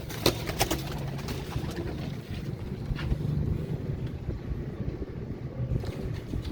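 A Prince Kamagar pigeon coos softly under heavy, continuous wind and rumbling background noise, with no talk.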